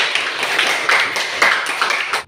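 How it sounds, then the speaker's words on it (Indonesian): A classroom of students claps for the groups that have just presented, a dense run of hand claps at steady loudness for about two seconds before cutting off abruptly. "Kita kasih aplaus dulu untuk semua kelompok"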